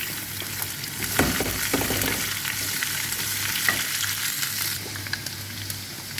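Garlic cloves fry in a hot pan with oil, giving a loud, continuous sizzle close by. Occasional stirring scrapes and knocks break through, and there is no talk.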